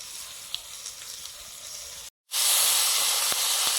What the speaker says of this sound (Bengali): তেলে দিলাম কালো জিরে